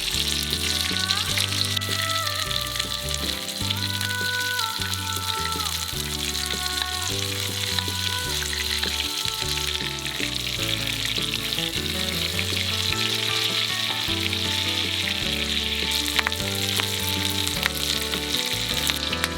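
Steak sizzles loudly and steadily in a hot pan with butter and sprigs of fresh thyme, a continuous close frying hiss with faint crackles and music playing underneath.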